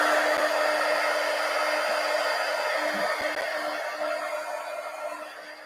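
A handheld heat tool blows hot air over inked journal pages, a steady loud whooshing hum that runs throughout and fades slightly toward the end, with no talking.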